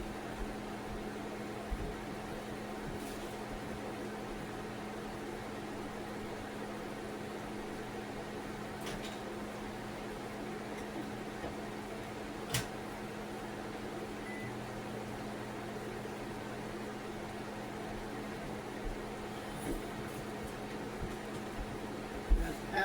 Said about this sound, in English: now this can't be in the microwave too long